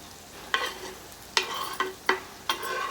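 Onions with coriander and mint are stirred in a frying pan, a spoon scraping in five distinct strokes over a low steady sizzle.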